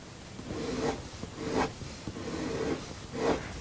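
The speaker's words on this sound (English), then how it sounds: "once again, with the embossing tool, following the direction of the hair" An embossing tool is drawn across paper in short strokes that follow the direction of hair in a coloured pencil portrait, making faint, close scratchy rubs that repeat roughly every second.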